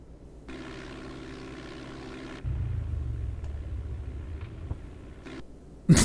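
A propeller aircraft engine in the Flight Simulator 4 game, a Cessna flying from Meigs to Kankakee, drones steadily, then shifts to a deeper, louder rumble midway with small clicks, ending in a sharp burst.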